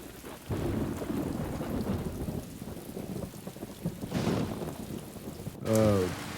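Steady rain falls with deep rolls of thunder swelling and fading in a Hindi film scene, and a voice briefly speaks near the end.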